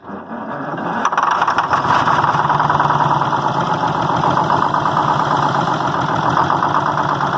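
A GMC Greyhound bus engine cranks and fires up for the first time, settling into a loud, steady running rumble that continues without a break.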